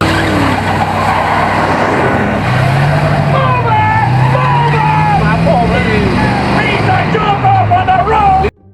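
Tires squeal and skid with loud, wavering screeches over racing car engines during a car chase in a Bond film, sustained throughout before cutting off abruptly at the end.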